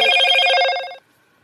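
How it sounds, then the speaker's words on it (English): A phone rings indoors with one bright, electronic trill lasting about a second, then cuts off into silence. "Is she still blowing up your phone?"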